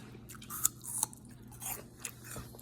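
Close, loud chewing of a crunchy raw apple, with sharp crisp bites and wet crunches repeating every half second or so, no talking.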